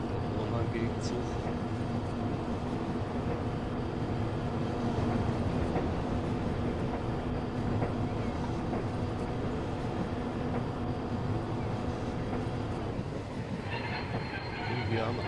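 An oncoming train rumbles steadily past in the EEP railway simulator, a dense continuous rolling roar with wheel clatter and faint squeal holding near for the whole stretch, with some speech mixed in.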